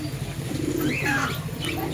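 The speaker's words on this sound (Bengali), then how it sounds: "অনেক পায়রা এসছে" Many pigeons coo at an aquarium and pet shop on School Road in Salar: low, rolling coos with rising and falling tones, fairly close over a steady background hum.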